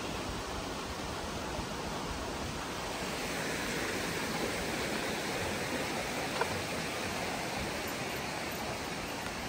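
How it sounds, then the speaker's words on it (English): A small waterfall on a creek in a rhododendron-lined gorge gives a steady, close, broadband rushing roar of falling water, continuous and even throughout with no voices. "Down here we got a little mini waterfall."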